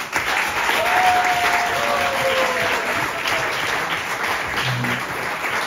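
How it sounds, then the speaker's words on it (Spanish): Continuous, loud applause from an audience at a local press awards ceremony in Torrevieja, a dense wash of clapping that holds steady throughout, with a faint tonal murmur briefly beneath. "Un aplauso para Iñaki."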